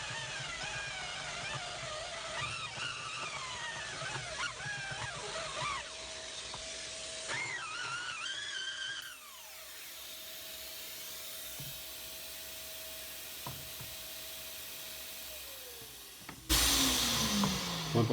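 A Parkside PBS 900 C3 900W bench belt sander grinds metal with a connected vacuum cleaner running, a steady motor whine under scraping, then the sander spins down while the vacuum drones on and winds off.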